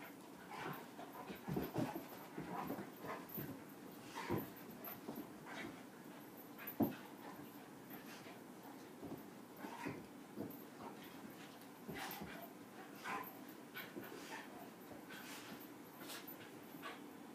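An adult dog and a puppy playing, with soft panting, scuffling paws and occasional small whimpers and thumps, faint and close, no talking.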